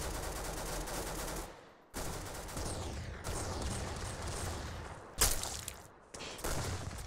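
A weapon in a shooting video game fires repeatedly in dense rapid bursts, loud and continuous with brief pauses between strings of shots.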